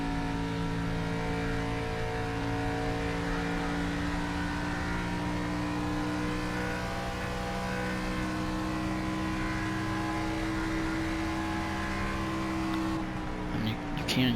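A NASCAR Xfinity stock car in the NASCAR 25 racing game at Homestead holds a loud, steady engine drone with layered harmonic tones the whole way through, and a slight change near the end.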